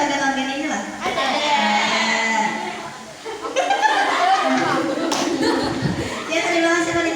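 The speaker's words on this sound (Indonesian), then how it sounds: "Ya beri tepuk tangan buat wanita" Classroom applause for a female student after a lesson on the human digestive system, steady clapping from a group with chuckles and voices mixed in.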